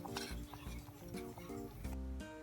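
A spoon stirring a thick, filling soup in a pot after mint is added: soft scraping and light metallic clinks repeat at an uneven, quiet pace.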